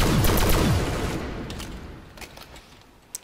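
An automatic sniper rifle fires in Call of Duty: World at War custom zombies. A dense rapid burst opens loudly, then fades, followed by a few scattered, quieter shots and a sharp final crack. No one talks.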